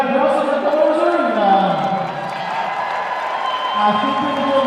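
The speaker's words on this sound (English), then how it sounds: "That sounds like a crowd for a cheerleading competition." A crowd at the IHSA competitive cheerleading state finals roars in a broad, continuous wash of noise, while an amplified voice talks over it throughout.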